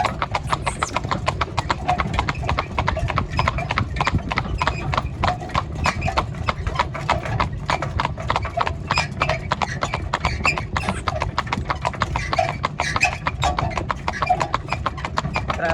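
A working mare's hooves clip-clop in a brisk, steady rhythm on a hard surface, close and continuous throughout, with faint voices occasionally in the background.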